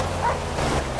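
Dog barking in a roleplay video game, set in the Smoky Mountains, a short yelping bark over a steady outdoor wash like surf, at moderate level.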